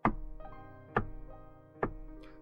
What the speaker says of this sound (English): Then there was a knock at the door.